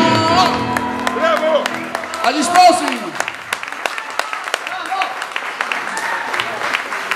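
An audience applauds at a live tammurriata music performance, with scattered sharp claps and whoops under loud talking and a shouted toast, fading into sparse clapping.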